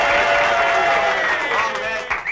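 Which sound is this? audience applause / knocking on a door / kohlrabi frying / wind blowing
audience applause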